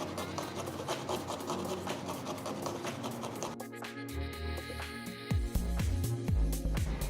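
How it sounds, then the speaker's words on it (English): Garlic cloves grated by hand for a lachha paratha and paneer curry meal, a steady close rasping scrape for several seconds, then heavier knocks and handling at the end. "first I'm going to grate the garlic"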